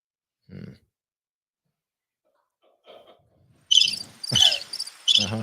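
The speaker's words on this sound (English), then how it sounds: "Crickets." Crickets chirp in brief bright bursts near the end, following a few faint scattered sounds and a stretch of silence.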